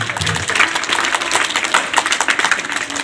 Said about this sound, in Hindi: एक बार जोरदार तालियां सारे बच्चों के लिए